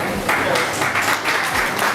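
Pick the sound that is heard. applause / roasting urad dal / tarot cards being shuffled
applause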